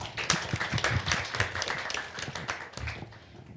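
A burst of applause from a crowd, dense rapid clapping that stays steady for a few seconds before tapering off slightly at the end.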